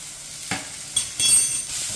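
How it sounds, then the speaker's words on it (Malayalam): Jackfruit seed mixture with fennel seeds and salt sautés in a pan, giving a brief, close sizzle with a few quick stirring scrapes and clicks, and no talking. "ജസ്റ്റ് ഒന്ന് വഴറ്റി കൊടുക്കാം."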